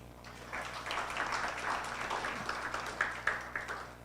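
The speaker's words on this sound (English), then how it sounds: "So I think those ones should get the round of applause again." Applause from a closing-session audience rises after a brief pause and holds as a dense, steady patter of many hands for several seconds, tapering slightly with a few louder claps toward the end.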